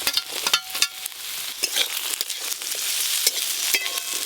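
Potatoes, aubergine and pumpkin frying in a pan, a steady hiss of oil with sharp clicks and scrapes of stirring throughout, close and alone with no voices.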